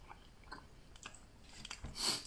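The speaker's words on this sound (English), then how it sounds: "because you're chewing it, you're getting all the full flavour" Quiet chewing and biting on a cut of beef, close to the mouth, with soft crunchy bites across the moment and a louder burst near the end; no talking.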